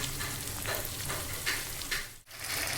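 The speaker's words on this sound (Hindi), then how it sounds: "इसमें हम अपने चिकन के पीस फ्राई करेंगे" Chicken pieces sizzling steadily in hot oil in a pan, a close, soft continuous frying crackle with faint stirring sounds and no speech.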